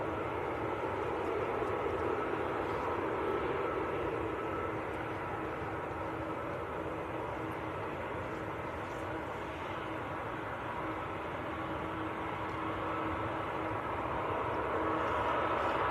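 Aer Lingus Airbus A330 airliner at Manchester Airport, a distant, faint, steady jet rumble that continues evenly throughout with no voices.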